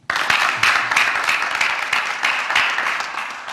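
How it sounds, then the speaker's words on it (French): A studio audience at a youth entrepreneurship debate broadcast claps for the young entrepreneurs, a lively mass of hand claps at moderate loudness, steady and unbroken across the stretch. "je vous demande de vous applaudir"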